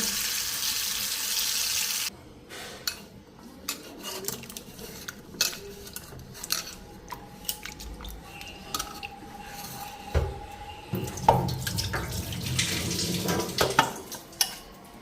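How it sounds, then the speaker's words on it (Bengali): Tomatoes are washed in a sink, starting with a short burst of running tap water, then scattered clinks of dishes and splashing handling, with the water running again near the end. "তো ওইদিকে টমেটোটা ধুয়া নিই"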